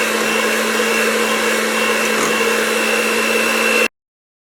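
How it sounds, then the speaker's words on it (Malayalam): Electric beater whirring steadily through milk cake batter flavored with vanilla and pineapple essence, a loud constant motor hum with a fixed tone that cuts off abruptly near the end. "ഇനി നമുക്കിത് ഒന്നും കൂടി നമുക്കൊന്ന് ബീറ്റ് ചെയ്തിട്ടെടുക്കാം"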